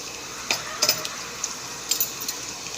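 Ginger and garlic sauté in a pan for chicken liver and gizzard adobo, a light, steady sizzle broken by scattered sharp clicks of a utensil against the pan.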